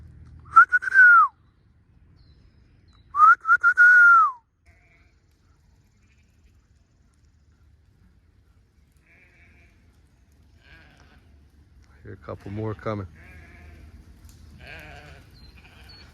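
Sheep on a farm being called in from the field to the barn give two loud, drawn-out bleats close by early on, then quieter shuffling and a brief mid-range burst as more arrive, with a short spoken line near the end.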